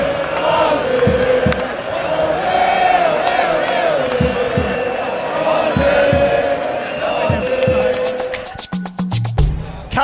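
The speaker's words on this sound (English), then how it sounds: "The crowd is desperate for a goal." A large football stadium crowd at an Australia v Paraguay match roars continuously, with sustained chanting, whistles and shouts over a dense, loud hum; a commentator talks over it.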